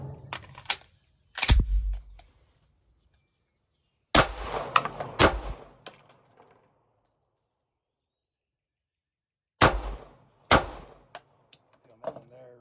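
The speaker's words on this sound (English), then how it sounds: "we'll do is a empty round in the chamber, attempted fire, a couple rounds, and a reload" Handgun firing a few sharp, loud shots in separate bursts with a reload between them, short clicks and metallic handling noises around the reports and quiet gaps in between.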